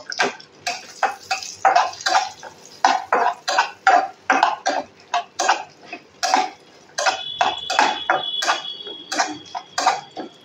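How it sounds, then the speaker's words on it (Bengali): Cashews and raisins stirred together in a pan for a semolina (suji) dish, producing a steady series of rhythmic scraping, clacking strokes, close and fairly loud, with no talk. "সবকিছুকে একসঙ্গে আমি নেড়েচেড়ে নেব।"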